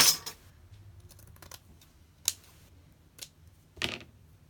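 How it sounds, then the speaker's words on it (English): Scissors cutting lace and paper for Christmas ephemera crafts, a few sparse, crisp snips spaced a second or so apart against a quiet room, no speech. "Let's just cut a little bit off."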